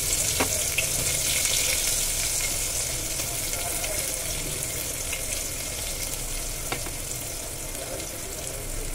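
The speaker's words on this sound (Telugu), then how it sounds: "ఓకే ఫ్రెండ్స్, ఆయిల్ అయితే హీట్ అయిపోయింది. వేయంగానే అలాగే చిక్కమనాలి, అప్పుడే టేస్ట్ బాగుంటుంది." Onions tossed into heated oil with asafoetida hiss and sizzle steadily up close, a couple of sharp clinks from a utensil breaking the continuous frying noise.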